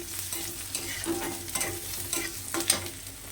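Onions stirred in a hot pan, a steady sizzle of frying with scraping stir strokes every second or so, close and fairly quiet, no talking.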